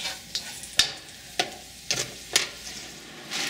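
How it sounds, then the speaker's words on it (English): Garlic stir-fried and tossed in a pan, with a few sharp scraping tosses spaced through a soft, steady sizzle, close and fairly quiet, with no voices. "Garlic burns easily, so I'm constantly making sure I toss it around so it gets in the flavor without burning."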